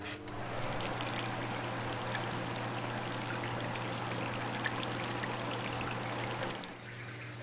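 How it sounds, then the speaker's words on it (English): Foley shower water turning on, a sudden rush of spray that holds as a steady, dense hiss and patter for several seconds before cutting back abruptly, heard alone without voices. "Shower turning on."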